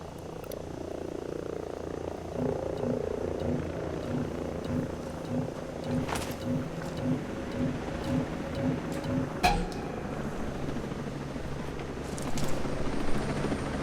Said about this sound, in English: this helicopter just came out of nowhere